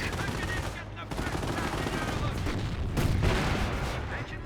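Machine gun fire and scattered shots from a Company of Heroes 1 battle, an MG position under attack, rattling bursts with explosions sustained across the clip while a commentator talks over it.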